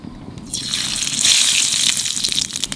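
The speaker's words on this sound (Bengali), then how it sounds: "তেলের উপরে দিয়ে দেবো কটা কালো জিরে" Nigella seeds dropped into hot oil in a pan for a Nadia-style greens recipe, a bright sizzle swelling up after half a second and holding loud and close, with no talking.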